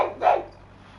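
A single short, sharp bark from Murphy the farm dog, loud and fairly close, then fading into quiet.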